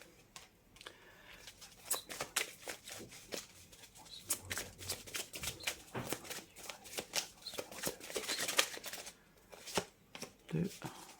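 Tarot cards shuffled and drawn at close range, with quick irregular riffling slaps and soft card taps throughout, mostly alone.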